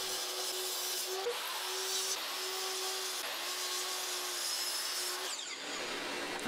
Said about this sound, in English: First thing I do is cut down all the various pieces that I was going to use to make up the three blanks.